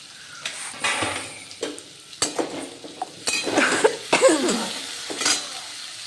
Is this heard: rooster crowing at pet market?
no